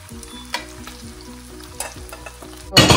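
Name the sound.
marinated cornflour-coated beef frying in hot oil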